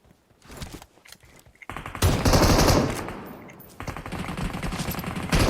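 Automatic gunfire in the mobile battle royale game PUBG Mobile, with sporadic bursts at first, then long sustained loud rattling fire and further rapid volleys, near and dense.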